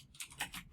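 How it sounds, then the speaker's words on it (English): Ctrl+S pressed on a computer keyboard, a few quick, faint key clicks in close succession. "Hold down the Control key and hit S to save."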